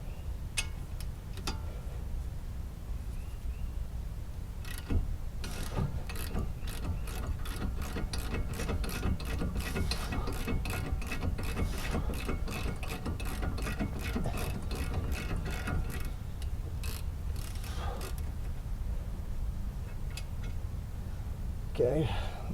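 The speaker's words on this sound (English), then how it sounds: "Should be enough for ratchet." A ratchet wrench works on a Chevy Cruze during a brake replacement, giving a long run of steady, close mechanical clicks with brief pauses. A voice can be heard at times beneath the clicking.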